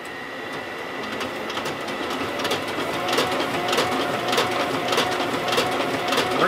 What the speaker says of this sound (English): So now we're going to put this part back in our printer and see if it works.